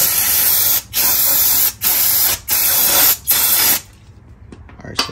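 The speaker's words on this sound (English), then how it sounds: "spray some brake cleaner on it." Loud aerosol brake cleaner spray hissing in five steady bursts on a Honda Accord rear brake, separated by short pauses, close up, then the hiss stops and faint clicks follow.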